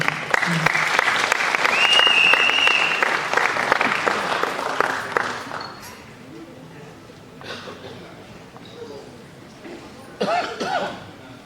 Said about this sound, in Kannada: ಸ್ಪೆಷಲ್ ಚಪ್ಪಾಳೆ ಬರಬೇಕು